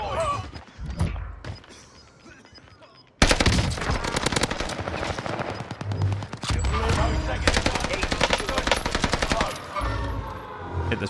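Call of Duty Warzone gunfire on Rebirth Island: after a quieter stretch with a few isolated shots, dense automatic rifle bursts erupt, loud and close, in rapid sustained volleys with brief pauses, with players talking faintly underneath.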